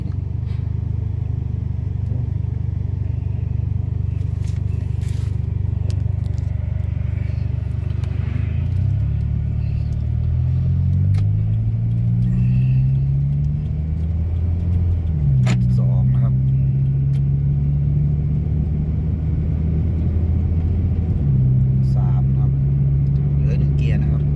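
A Toyota Vios engine held at high revs in first gear during a test drive with a faulty, incomplete gearshift, giving a loud, constant low drone with stepped pitch rises, while someone talks over it.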